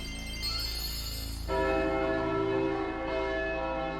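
Church-style bells ring in the anime Revolutionary Girl Utena before a duel, a bright sustained peal that swells with a fuller strike midway and keeps resonating loudly with no talk.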